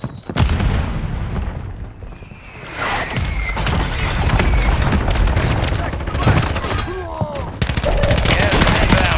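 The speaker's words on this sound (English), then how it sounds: "Took a round! Semtex incoming!" In the Call of Duty video game, a Semtex grenade detonates with a heavy boom amid bursts of rapid gunfire and shattering debris. The blasts and volleys come loud and close, with a brief lull before firing resumes.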